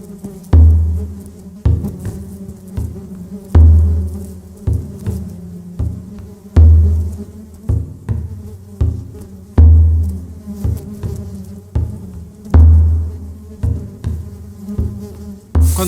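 Bees buzz in repeated swelling pulses out in the countryside near the Via Emilia, several insects droning close by in overlapping waves, with no voices.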